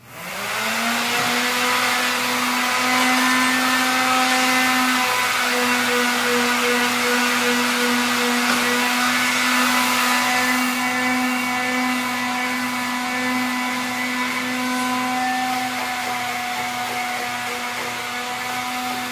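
Vibration sander smoothing a surface, a loud, continuous whining drone with a steady pitch that holds for the whole stretch and slowly eases off slightly toward the end.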